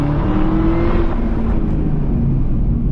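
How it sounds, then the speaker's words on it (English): Manual Camaro ZL1 1LE doing a drag racing launch, its engine roaring loud and steady from inside the car with a droning tone that shifts as the wheels spin. "So try a little drag racing launch."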